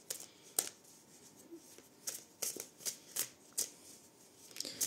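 A Caticorn tarot deck is riffled and shuffled by hand, with a series of crisp, close card flutters and snaps coming in quick bursts, quiet and without talk.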